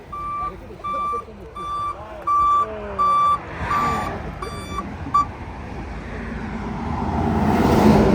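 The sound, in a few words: tow truck reversing with beeping alarm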